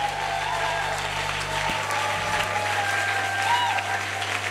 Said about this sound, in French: Nous acclamons plus fort, nous acclamons le roi.